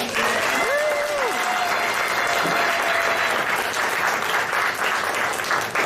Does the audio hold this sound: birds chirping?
no